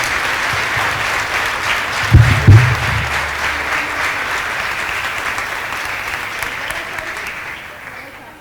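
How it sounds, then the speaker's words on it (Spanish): An audience at a choral festival gives strong applause welcoming a senior adults' choir, a sustained wash of clapping with a couple of louder thumps near the start, slowly fading toward the end. "Recibimos con un fuerte aplauso al coro de adultos mayores El Despertar"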